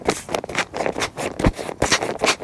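Short bursts of air from a pump topping off a self-inflating camping mattress, a rapid irregular sequence of puffing and rustling strokes, close and moderately loud.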